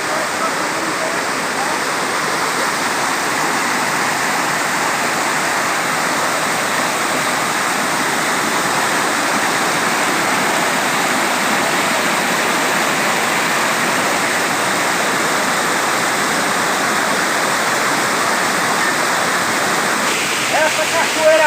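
A waterfall swollen by recent flood water roars in a constant, dense rush, loud and close, with no speech over the steady torrent.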